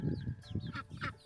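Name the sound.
American Bresse hen clucking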